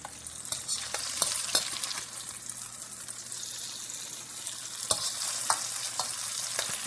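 Paneer cubes fry in a pan with a steady, bright sizzle and crackle, punctuated by a few sharp pops and stirring clacks, close and continuous, no talking.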